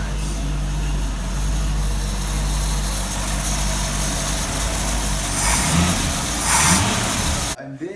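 A 1966 car engine, freshly fitted with regapped spark plugs and retimed, runs at a steady idle with a couple of brief revs near the end, heard close and continuous before cutting off abruptly.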